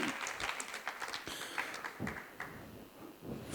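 Audience applause welcoming a folk singer at the Padma Festival 2023 in Lucknow, a steady patter of many hands clapping at moderate distance, somewhat faint and continuous throughout.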